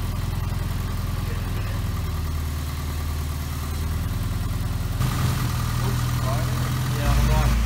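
A Mini engine idles steadily after a new clutch is fitted, a low continuous rumble that grows slightly louder partway through, with people talking over it.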